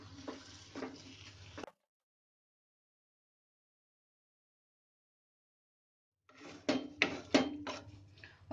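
Pav bhaji with masala and red food colour gets mixed in a pan, giving short bursts of scraping and clattering at the start and again near the end with silence between.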